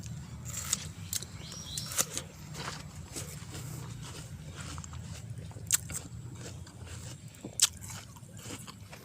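Crisp bites and crunchy chewing of a ripe honey rose apple (jambu madu), close to the mouth, with a few sharp snaps standing out over a low steady outdoor hum.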